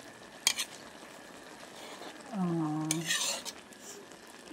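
Garlic and onion sauté in a pan for egg noodles with flaked fish, a low sizzle under a sharp utensil clank, a stretch of stirring, and a brief clatter, with a faint voice-like tone in between.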